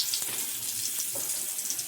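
Coated pieces of brinjal fish-style fry laid into hot oil on a tawa give a steady, close broadband sizzle and hiss with small crackles throughout, no voices.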